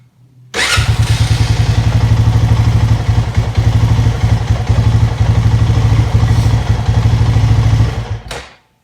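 A Honda Rubicon 500 ATV engine with an idling fault runs loud and close under throttle, a steady, throbbing drone lasting about eight seconds before it cuts off abruptly.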